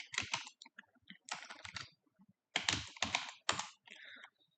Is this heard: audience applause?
no